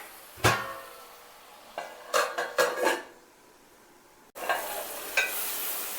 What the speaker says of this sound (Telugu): ఇప్పుడు మనం పైన ప్లేట్ పెట్టుకుందాం.